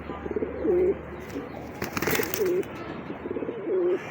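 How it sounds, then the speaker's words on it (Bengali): A male racing pigeon coos repeatedly, three rounded rolling calls spaced about one and a half seconds apart, close and clear over a soft background hiss with a brief rustle in between. "এটা নটটা ডাক দেখাই দিলাম ভাই।"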